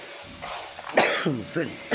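A few short, raspy coughs break up quiet speech, close to the listener.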